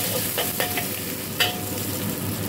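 Garlic and onion frying in leftover fish-frying oil while being stirred, a steady loud sizzle with a few scraping clicks of the utensil against the pan, close up and without talk.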